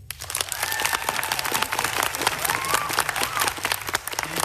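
Loud audience applause at a Canadian space strategy unveiling, dense sustained clapping from a large crowd with a few whoops mixed in.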